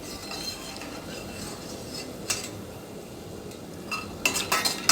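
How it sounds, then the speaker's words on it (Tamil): Brinjal is stirred and sautéed in a pan for kulambu, with a low steady sizzle and scattered sharp clinks and scrapes of a spoon against metal, close and with no talking. "இந்த மாதிரி வதக்கி விட்டுக்கோங்க."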